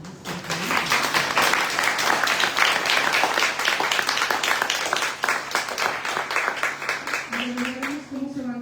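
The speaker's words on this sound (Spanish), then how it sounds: "Un aplauso para ambas, por favor." An audience applauds at a public forum, dense sustained clapping for several seconds that thins toward the end as a voice begins speaking.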